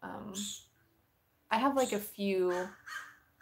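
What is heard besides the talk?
crow cawing outside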